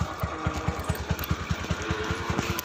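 A motorcycle engine runs steadily with a regular low thumping pulse, close and fairly loud, as the bike heads out on a ride.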